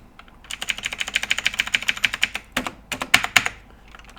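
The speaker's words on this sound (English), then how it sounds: "Let me just type a serialized field" Rapid clicky typing on a computer keyboard, a close, steady patter of keystrokes that pauses briefly and then resumes in quick bursts, with no speech.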